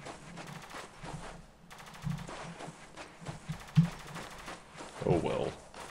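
Gunfire from a weapon in the shooter game Spec Ops: The Line, with a few scattered shots and bursts at moderate loudness amid game ambience and some voice.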